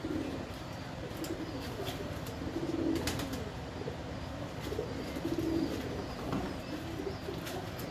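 A Teddy pigeon named Tagu, kept by a pigeon breeder, gives soft low coos twice, near and moderately loud over a steady background murmur.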